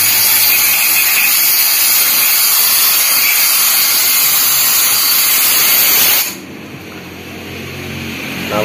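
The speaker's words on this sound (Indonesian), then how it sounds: "kemudian kita semprot menggunakan kompresor ya guys" Compressed air hisses in a loud, steady broadband blast for about six seconds as a compressor nozzle sprays clean the fuel pump filter of a Honda Beat FI motorcycle, then cuts off to a quieter hiss.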